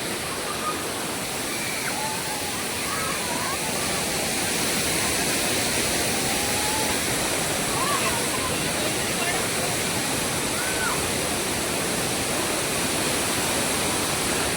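Savdav waterfall in Konkan, water crashing down in a loud, steady roar that fills the whole span without a break, with faint chirps above it.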